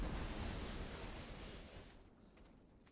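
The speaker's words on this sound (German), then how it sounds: "Haben das Rauschen vom Wasserfall" A waterfall in the video game ARK Genesis gives a soft, steady rushing wash that fades away after about two seconds, with no voices.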